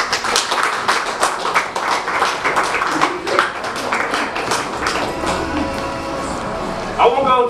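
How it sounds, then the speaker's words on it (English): An audience gives parents a round of applause, with individual hand claps loud and distinct in a lively, uneven patter that fades near the end as voices start up. "give them a nice clap of hands for your parents"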